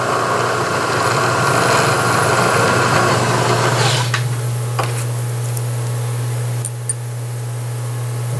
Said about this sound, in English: So we'll ream it to the 270 depth.